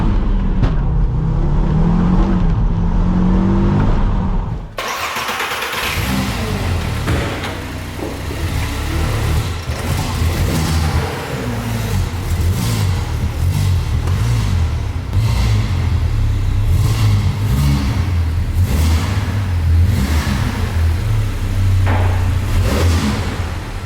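A VW Caddy with a swapped-in Audi RS engine driving on country roads: a loud, continuous engine roar that rises and falls with revving and acceleration, heard from close by with no talking.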